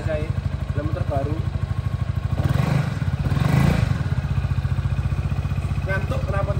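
Yamaha XMAX 2024 scooter engine running steadily with a rhythmic low putter, swelling briefly midway, while people talk over it.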